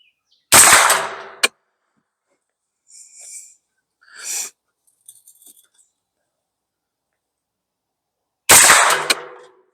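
Anderson AM-9 9mm carbine fired outdoors at 50 yards: two loud, sharp single shots several seconds apart, with faint small clinks and rustles between them.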